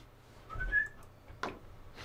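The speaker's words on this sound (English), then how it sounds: "Just whistling for your horse." A short two-tone whistle rises and falls once, fairly close, followed by a brief breathy noise burst against a quiet background.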